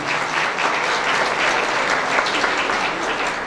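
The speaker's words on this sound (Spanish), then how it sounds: "Un aplauso, por favor." An audience at a law seminar applauds in a dense, steady burst of clapping that carries evenly through the whole stretch with no speech over it.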